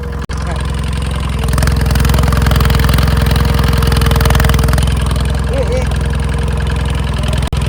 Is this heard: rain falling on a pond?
no